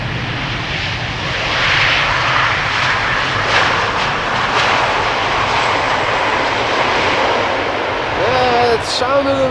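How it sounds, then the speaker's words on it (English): A KLM Boeing 787-10 Dreamliner lands at Amsterdam Schiphol, its engines giving a broad loud roar that swells as thrust reversers come on, with brief chirps near the end. "This is KLM Flight 604 arriving from LAX, 787-10 Dreamliner."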